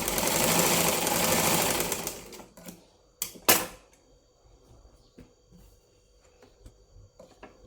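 A sewing machine runs a quick burst of stitching on a lined blouse for about two seconds, then stops, followed by a few sharp clicks and quiet handling noises.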